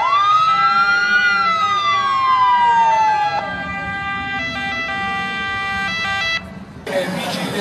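A loud, close ambulance siren wails up and down, then switches to a steady stepped tone, cutting off abruptly at the end.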